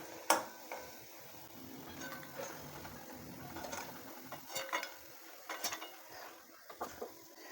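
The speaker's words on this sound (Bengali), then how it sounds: "এবার আমি বড়িগুলোকে তুলে নেব।" A utensil scrapes and clinks against a kadai as fried lentil dumplings are lifted out of hot oil, with faint sizzling and scattered light taps; no talking.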